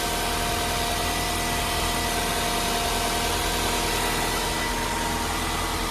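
A Nissan Altima engine idles steadily after a clogged catalytic converter was replaced, a continuous dense hum with broad noisy rumble, close and unbroken, with no talking.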